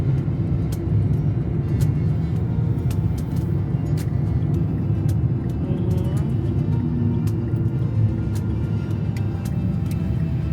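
A car drives off near a shopping and retail center, a steady low engine rumble heard close and continuous, with faint background ticks and bustle.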